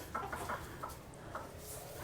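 Sonali chickens on a small poultry farm of about seventy birds, hens and roosters about 155 days old, clucking in short scattered bursts, fairly faint against a quiet background.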